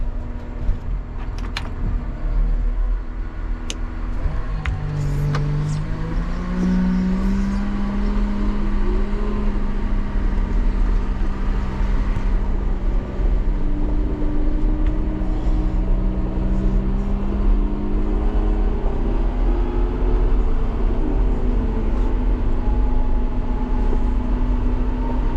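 A Cat 926M wheel loader runs steadily from the cab during a ride, its diesel engine a continuous droning hum with shifting tonal whine as revs change, loud and close with no talk.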